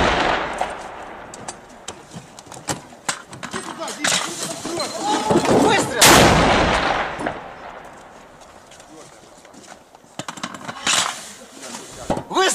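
One loud gunshot blast rings out amid excited shouting voices at Donetsk Airport during the Ukraine war, with several other sharp cracks and clatters scattered around it.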